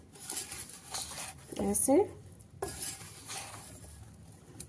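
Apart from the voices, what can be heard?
mixing carrot and radish pickle with oil using a spoon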